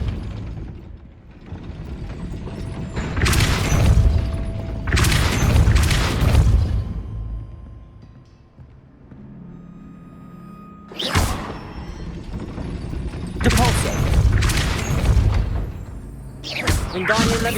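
A Depulso spell is cast in Hogwarts Legacy to raise a gate: a loud magical burst followed by heavy mechanical gate sounds, rattling and thudding, repeating in several bursts over a steady game ambience with voices.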